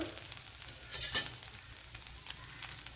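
Jackfruit dish frying in a pan, a steady close sizzle running throughout with brief bursts of stirring scrapes near the middle; no voices.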